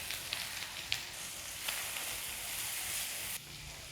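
Finely chopped orange peel sautéing in hot oil with asafoetida, turmeric and curry leaves, a steady close sizzle with small crackles and pops, no talking.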